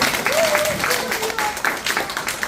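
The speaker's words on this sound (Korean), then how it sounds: "저 꿈 이루어지기를 위하여 박수 한번 드릴게요" An audience at a Korean business seminar claps in a brisk, close patter while a voice keeps talking over the applause, the clapping thinning slightly toward the end.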